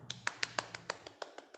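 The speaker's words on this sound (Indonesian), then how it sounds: "Tepuk tangan dulu untuk Maya Sari." A classroom group of students claps for a classmate in a quick, even rhythm of about ten sharp, fairly faint claps in under two seconds, with no talking over them.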